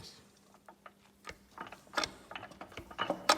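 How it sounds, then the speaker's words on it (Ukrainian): A wrench slowly turns the crankshaft of a YuMZ-6 tractor engine by hand, giving scattered metallic clicks and ratcheting knocks that grow a little louder toward the end, close by with no talk. "Ось так крутиться колінвал."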